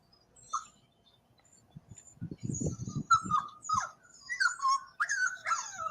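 A dog whimpers and whines close by in a run of high, thin, wavering cries, mixed with low snuffling and shuffling sounds, growing busier toward the end.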